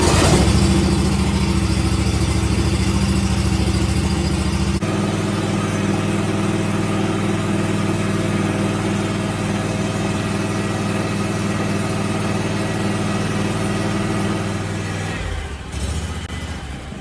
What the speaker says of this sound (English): So I'll go ahead and start the engine and then we'll check the voltage again.